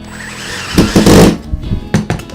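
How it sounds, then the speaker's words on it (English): A handheld screwdriver drives a screw through aluminium into wood held in a vise, heard as close, uneven bursts of grinding and creaking with short pauses, strongest near the middle. "get our screwdriver with a screw and we screw that in"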